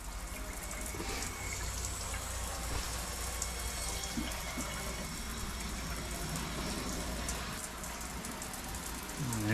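Pink antifreeze water pours from the shower head of a Jayco JayFlight 224 BH camper, held low, as a steady, even hiss of spray with a faint splatter.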